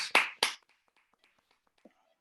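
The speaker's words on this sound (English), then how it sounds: "I like to clap always" Two sharp hand claps close together, loud and near at the start of a quiet room in a surgical setting, followed by near silence with faint soft taps and a brief low murmur.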